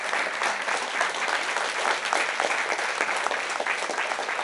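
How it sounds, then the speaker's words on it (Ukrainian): Steady, dense applause from a conference audience at EdCamp Ukraine 2016 greeting speakers coming on stage, a continuous wash of many hands clapping without pause, even in loudness throughout. "Под ваши аплодисменты"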